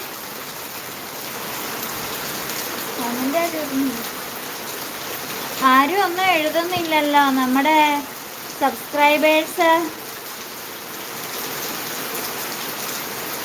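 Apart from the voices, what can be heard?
heavy rain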